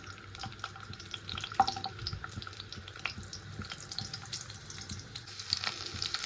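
Chopped garlic frying in a pan, a soft close sizzle with scattered clicks and clatters of stirring, fairly quiet and without voices.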